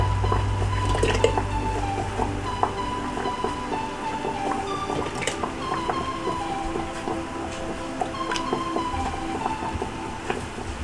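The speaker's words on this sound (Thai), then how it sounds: "ทีนี้เราก็จะบรรจุใส่ขวดนะคะ" Hot homemade tomato salsa is filled into bottles, giving wet squelching plops and scattered drips with faint clinks, steady and close throughout.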